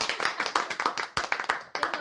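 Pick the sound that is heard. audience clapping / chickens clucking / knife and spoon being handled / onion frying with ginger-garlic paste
audience clapping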